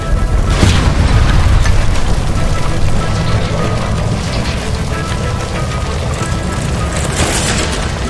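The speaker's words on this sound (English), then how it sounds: "Shoot the gas line, Cole" A gas line shot open in L.A. Noire goes up in a loud, deep boom. A dense roar of fire and debris follows and stays strong to the end.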